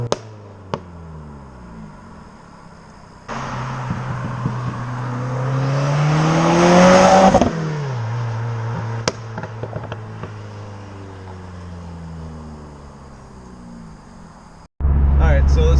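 A Subaru WRX engine rises in pitch as the car accelerates hard from inside the cabin, building to a loud peak with a turbo whoosh before easing off; people talk over the engine noise.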